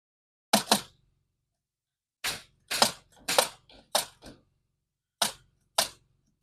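A framing nail gun fires during interior wall framing of a new house, loud sharp reports, one double shot, then a cluster of rapid shots and a final pair, each cracking and stopping abruptly with near silence between.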